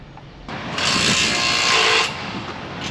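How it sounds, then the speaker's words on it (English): A loud, steady whirring hammer drill runs for about a second and a half, then stops, with low background noise before and after. "That hammer drill thing is, we'll hear that all day long."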